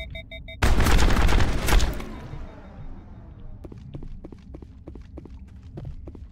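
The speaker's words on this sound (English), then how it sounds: "What's shooting at us?" Burst of loud, dense gunfire in the Mass Effect video game for over a second, then sparse sharp shots and thuds ticking along at a steady pace under quieter background noise.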